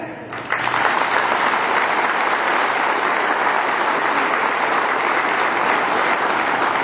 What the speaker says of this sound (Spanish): pido un fuerte aplauso para todas y todos ustedes aquí presentes